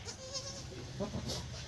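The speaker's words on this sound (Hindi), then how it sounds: "बकली है, बकली का बच्चा है छोटा।" A young goat kid bleats in short, wavering cries, close and fairly loud, with faint background noise and no talking over it.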